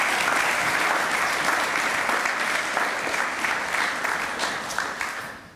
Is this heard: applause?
yes